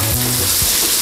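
Shrimp fry in a hot pan with a loud, dense sizzle, a close continuous hiss lasting about a second with no voices.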